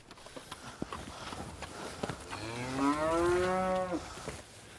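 Cattle being driven on a farm, with scattered hoof and footstep knocks followed by one long, loud moo from a nearby cow that rises and falls over about two seconds.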